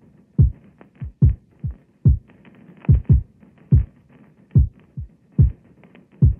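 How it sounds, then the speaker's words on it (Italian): A kick drum sample treated with saturation and reverb hits about a dozen times in an uneven, syncopated pattern. Each thump is loud and deep with a quick pitch drop, and a soft reverberant tail fills the spaces between hits. "quindi alla fine ho sto kick così."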